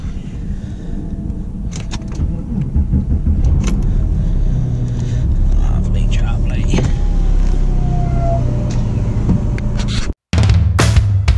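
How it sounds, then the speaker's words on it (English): A Porsche car engine runs steadily, close and fairly loud, for around ten seconds, with a brief cutout near the end before the engine noise resumes. "Let's get some Porsche noises for you."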